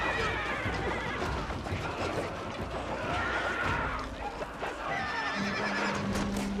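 Horses neigh and whinny over a dense battle din in Total War: Shogun 2, a Chosokabe campaign clash at a bridge, with galloping hooves and crowd roar underneath, loud and continuous.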